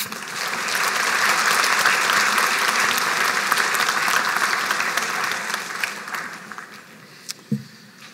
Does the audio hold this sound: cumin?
no